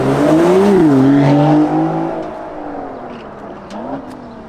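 An Aston Martin DB11 pulls away hard on takeoff, its engine note climbing loud and close through a rising rev before easing off into a quieter, fading whir.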